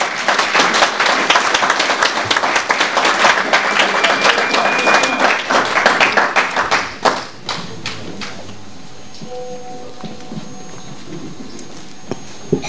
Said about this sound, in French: un homme exceptionnel qui est Vital Kamerhe, que je vous demande d'applaudir.